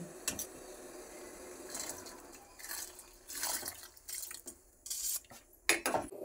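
Washed sago goes into a pot of heating water for Bengali payesh, heard as quiet kitchen clatter: scattered metallic clinks of a spoon against the pot, light splashes and drips, close and faint, with no talking.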